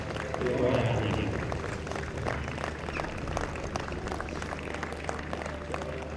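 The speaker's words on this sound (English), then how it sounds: "please give a warm round of applause to our athletes" Applause from spectators at a recurve archery national tour final, a moderate, sparse patter of claps that stays fairly even, with a voice speaking over it at the start.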